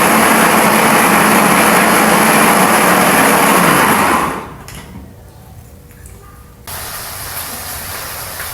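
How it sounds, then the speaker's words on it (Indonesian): A kitchen blender whirs loudly, blending ingredients for a shrimp sambal, a steady harsh motor roar for several seconds before it drops to a quieter hum, then surges again. "di sini aku lanjut mau ngeblender ini persiapan buat aku nyambal udang"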